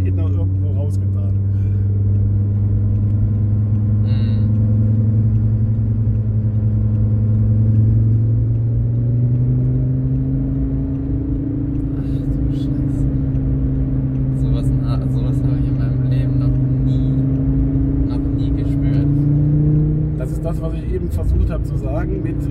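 Audi TT RS on a busy warm-up lap of the Nordschleife during a public driving session: a loud, sustained engine drone heard from inside the car, pitch rising and falling through gear changes, with a voice speaking over it.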